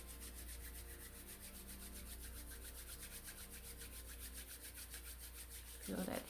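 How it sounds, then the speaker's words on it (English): Hands rubbing together quickly during a guided meditation, a steady continuous friction rustle that stays even throughout, up close, with a brief louder burst near the end. "Rub your hands. And faster."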